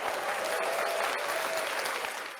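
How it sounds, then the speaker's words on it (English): Applause sound effect played on a podcast, a steady burst of crowd clapping that stays dense and even throughout before tapering slightly at the end. "Oh, where's the applause?"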